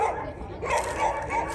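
A dog barks close by in a few quick, loud yelps and whimpering barks, with a mini excavator working outdoors in the background.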